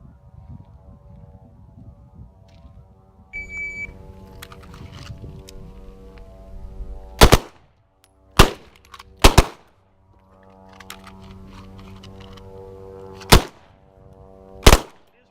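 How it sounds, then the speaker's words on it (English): Pistol shots at a shooting league range, five sharp, loud reports spaced irregularly across a quiet stretch with a faint low hum and a few small clicks between them. "Draw, aim, and fire 1 shot."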